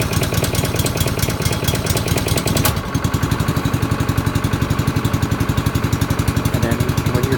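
A small engine, choke full and throttle cracked, is started with a key: a cranking run for under three seconds, then it catches and settles into a loud, steady, even idle chug close by.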